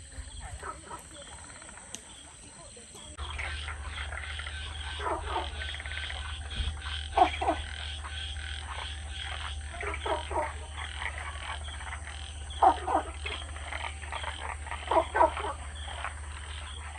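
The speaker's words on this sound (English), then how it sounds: "We've got a bit of frog noise happening here" Frogs croak at night on an eco farm near Hanoi, repeated raspy calls in irregular bursts over a steady low hum, moderately close and loud, continuing throughout after a quieter opening.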